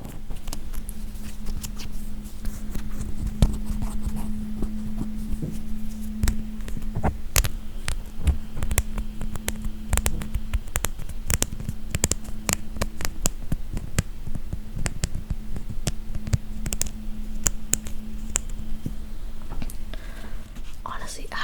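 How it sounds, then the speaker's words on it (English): A soft plush toy is brushed repeatedly against the microphone, producing close, muffled scratchy swishes and crackling bursts over a steady low mains hum, with soft whispered talk throughout. "Honestly, how do you make sounds with a plushie?"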